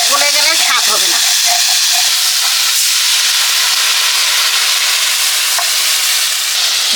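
Water is poured into a pan of frying okra, bursting into a loud, dense hiss of steam that starts with a brief bubbling crackle and holds steady, close and uninterrupted.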